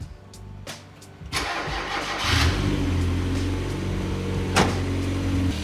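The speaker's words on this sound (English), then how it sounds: "All right, we're gonna start it up." A turbocharged Mazda MX-5 with a Garrett 2860R turbo starts from cold after a quiet pause: a short crank catches into a loud, steady idle, with one brief rev blip near the end. No talking.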